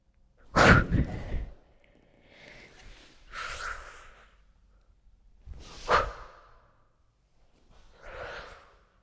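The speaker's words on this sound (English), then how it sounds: "You might hear that I'm breathing as well." Sharp, forceful breaths are taken in and pushed out at close range during a dance practice, several strong bursts with quieter exhales between them, and no talking.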